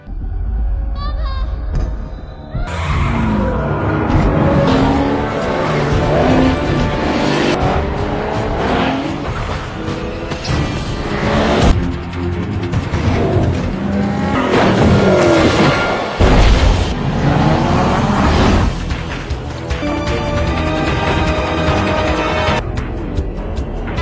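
A car chase from the action film Bleeding Steel: engines roar and tires squeal through a dense, loud mix of crashes and booms, with voices breaking in now and then.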